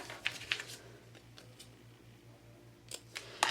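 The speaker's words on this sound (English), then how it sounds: "Just getting my scissors, and I'm just going to cut off the tails." A few crisp scissor snips cutting ribbon tails near the start, then quiet with a steady low hum, followed by two or three more sharp snips at the end.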